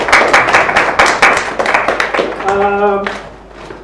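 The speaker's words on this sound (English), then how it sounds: "Applause for the volunteers." Audience members at a tech talk clap for volunteers, producing a short burst of individual hand claps that thins out quickly as a voice begins speaking.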